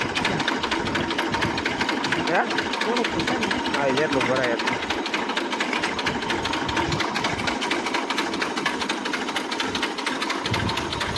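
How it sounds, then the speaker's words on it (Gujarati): A farm tractor engine runs steadily in the field with a loud, continuous throbbing idle while people talk over it. "હવે આ ટ્રેક્ટર હું રિવેસ માર દઉં"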